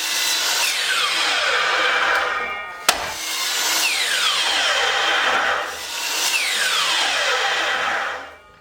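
A power saw makes three separate cuts through wooden boards for a chicken nesting box. Each cut is a loud, rising buzzing rasp. A sharp click comes between the first and second cuts.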